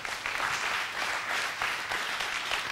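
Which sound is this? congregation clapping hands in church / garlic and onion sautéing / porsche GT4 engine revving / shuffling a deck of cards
congregation clapping hands in church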